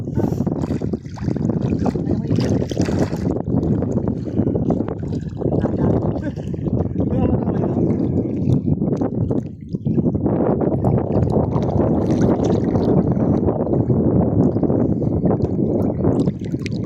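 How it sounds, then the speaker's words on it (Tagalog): A strong, gusting wind roars steadily and loudly outdoors, buffeting close to the microphone with only brief dips. "Lakas ng hangin."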